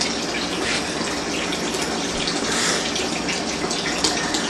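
Clean, natural stream water pouring steadily into a pond, a continuous close rushing splash with no pauses and no voices.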